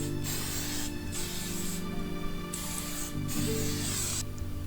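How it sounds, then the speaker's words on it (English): Protective sheen hair spray hisses steadily from an aerosol can in several long bursts separated by brief pauses, close and fairly loud. "Protective sheen spray."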